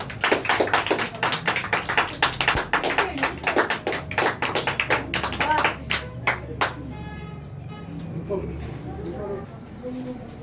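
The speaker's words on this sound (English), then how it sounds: "Give a huge round of applause for him." A small audience at a Teachers' Day event applauds a speaker, with sharp, distinct hand claps in an uneven rhythm that thin out and stop after about seven seconds, followed by quiet room noise and some talk.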